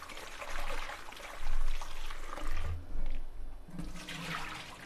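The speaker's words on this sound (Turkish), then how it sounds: "Şöyle sosislerimiz var. Onları yıkayalım önce." Tap water runs and splashes steadily, its sound rising and falling as sausages are rinsed under the stream.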